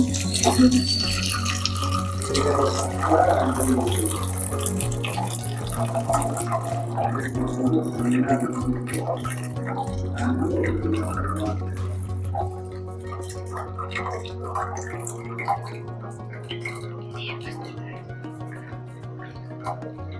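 Cooking water poured off boiled dal and greens for Andhra-style pappu, a continuous splashing, trickling stream close by, with a steady low hum underneath and a voice talking over it.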